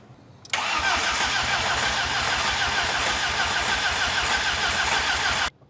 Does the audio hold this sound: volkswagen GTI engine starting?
yes